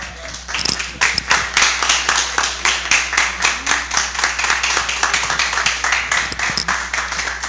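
Many hands clap together in sustained audience applause at a debate event, a dense, steady patter of crowd clapping that holds throughout without any talk.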